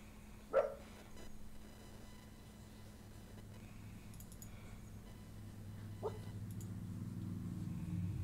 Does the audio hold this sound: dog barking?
yes